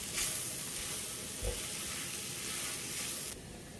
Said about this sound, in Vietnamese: Xào sơ khoảng chừng 1-2 phút thôi cho cái tỏi với lại gia vị cho nó thấm vô thôi.